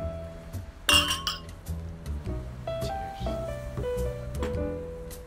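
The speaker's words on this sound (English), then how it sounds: "The boy and the girl raised a glass of wine." Wine glasses are clinked together in a toast at a restaurant: a bright, ringing clink near the start, followed by further lighter glassy taps and chimes over soft background music.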